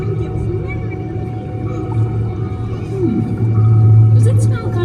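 Long, low whale calls and moans sound as effects on the Finding Nemo submarine ride at Disneyland, gliding and swelling over a steady mechanical rumble, with voices heard over it.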